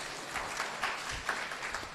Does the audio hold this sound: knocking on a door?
no